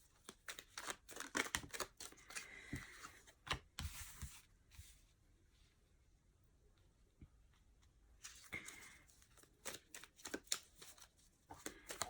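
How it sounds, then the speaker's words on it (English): Playing cards being shuffled close by: two bursts of quick, crisp riffling and snapping, one in the first few seconds and another near the end, separated by a quieter pause. "As you can see, this time I'm shuffling on camera."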